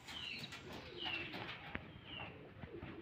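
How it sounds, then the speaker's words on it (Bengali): Low, soft cooing from pigeons in a breeder's loft in Charghat, Rajshahi, steady and moderately distant amid faint background noise, with a few higher chirps. "এই যে এখানে কবুতর আছে"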